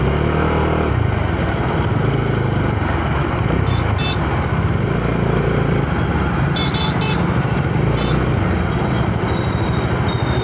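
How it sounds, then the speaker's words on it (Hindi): A Gypsy jeep drives past on a night road, its engine and tyre roar loud and continuous, heard from alongside a motorcycle with some brief high tones over the rumble. "ये जा रही है जिप्सी, इसके व्हील्स देखिए आप"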